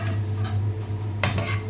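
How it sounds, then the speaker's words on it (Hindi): A spoon stirs vermicelli as it roasts dry in a pan for sweet zarda, giving soft scraping and clinking against the metal, with a sharper scrape near the end over a steady low hum. "चम्मच हिलाते रहना, छोड़ना नहीं है।"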